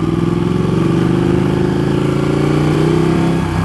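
A Ducati 1299 Panigale S being ridden in first gear, its engine a loud, steady, close droning rumble with a slight shift in pitch near the end, no talking.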